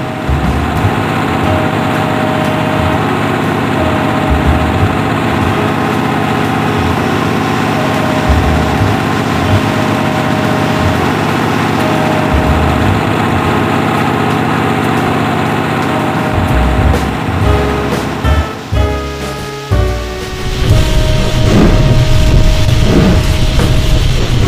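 A railway engine on the island railway runs onto a turntable, its loud, steady engine hum and rumble droning continuously, with some clanking and a shift in tone toward the end.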